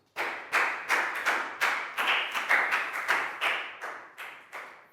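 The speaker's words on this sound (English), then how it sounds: "High five and a big round of applause for Lak Gao" A primary school class claps in a quick, uneven series of loud, sharp bursts, close by and without talk, fading slightly toward the end.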